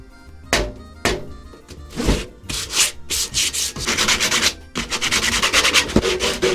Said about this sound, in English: now I'm going to distress it even more with this and then some sandpaper